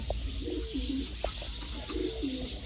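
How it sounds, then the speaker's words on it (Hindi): A Sialkoti pigeon of a prized breed coos nearby in two clear drawn-out phrases separated by brief pauses, set against a low steady background hum without any voices. "सियालकोटी नायाब कबूतर।"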